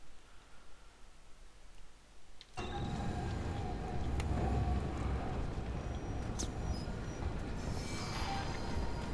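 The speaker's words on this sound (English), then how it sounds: "There's gonna be another train." A train rolls through a corridor in the video game Alien: Isolation, its rumble starting abruptly after a quiet stretch and staying loud and steady, with metallic squeals and clanks over the top.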